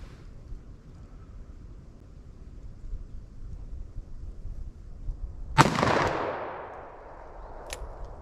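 A single loud handgun shot from a .45 Super or .44 Magnum loaded with Underwood hard cast rounds, fired single action outdoors, cracks sharply and rolls off in a long echoing tail, with a fainter second report moments later.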